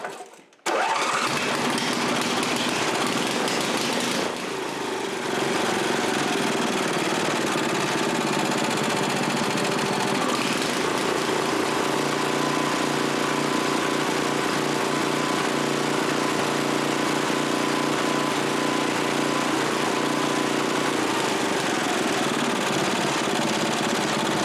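A rebuilt Briggs & Stratton 7HP Model 17 small engine runs steadily and loudly up close, with a continuous rough mechanical drone that holds without letup after it catches at the start.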